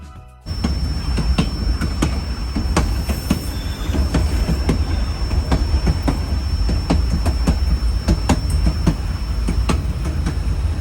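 Scenic railway train in Alaska heard from an open balcony: steady rumbling wheels with a rhythmic clickety-clack over rail joints and a thin high squeal, loud and continuous throughout.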